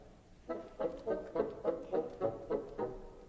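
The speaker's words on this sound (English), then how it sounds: "against that, the bassoons are playing in 3/4 time." Bassoons from Holst's The Planets play a steady, bouncing figure in 3/4 time, with regular accented notes pulsing at an even beat, moderately loud and clear with no voices.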